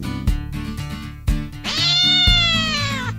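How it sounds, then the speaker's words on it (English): A cat meows in a loud, drawn-out wail that rises and holds, preceded by a few sharp thuds and clatters, with no talking. "A cat that Tom had hidden there sprung out at Aunt Polly."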